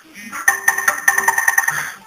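A mobile phone gives a bright SMS notification, a rapid run of ringing chime notes lasting about a second and a half, close and fairly loud, with brief murmuring at the start and end.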